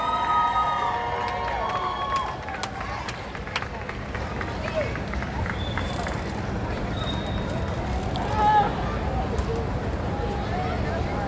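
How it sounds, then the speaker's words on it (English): A large outdoor rally crowd in Washington, D.C. cheers and shouts continuously in a dense, steady roar, with scattered whoops and voices mixed into the din. "Let's give him a round of applause"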